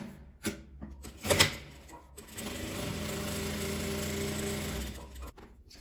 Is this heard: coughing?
no